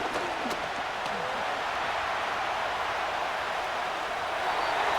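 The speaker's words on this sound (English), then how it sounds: "The crowd at Arrowhead roaring." Roaring stadium crowd at Arrowhead in a Madden NFL 25 Browns vs Chiefs game, a dense, steady wall of cheering that stays loud and unbroken throughout.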